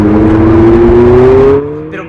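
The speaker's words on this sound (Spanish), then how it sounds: "Así suena el nuevo Abarth 500 y sí, es totalmente eléctrico." Electric Abarth 500 playing a synthesized combustion exhaust sound, a loud steady droning engine-like tone rising slightly in pitch before cutting off abruptly.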